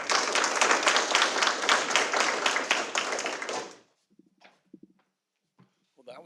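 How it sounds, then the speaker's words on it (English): An audience at an education event applauds loudly and steadily as a speaker comes forward, then the clapping stops abruptly and a few quiet thumps and a brief voice follow in the near silence. "Please give him a round of applause as he comes forth."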